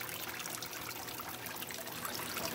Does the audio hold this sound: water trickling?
yes